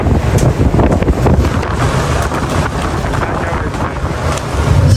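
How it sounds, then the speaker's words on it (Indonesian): Storm Eunice gusting at Europoort harbour in the Netherlands: loud, roaring wind pounds the microphone in continuous rumbling buffets, with a faint hiss of water and harbour noise beneath. "Sekarang waktunya aku mencoba angin kencangnya."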